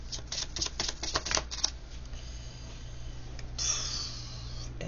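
Playing cards being shuffled and drawn, with quick riffling flutters up front giving way to a softer slide and snap later on, quiet and close over a low background hum. No one talks.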